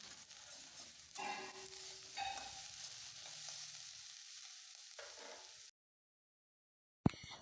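Chopped vegetables and green peas frying in a pan with potato leaves, a steady close sizzle with brief stirring bursts. The sizzle cuts out into silence near the end, followed by a short clatter.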